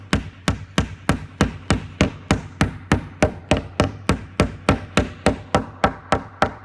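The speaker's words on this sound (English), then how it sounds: "I'm just gonna lightly tap it with the hammer" A hammer taps repeatedly at an even, quick rhythm, about three sharp metallic strikes per second, close and clear with no voices.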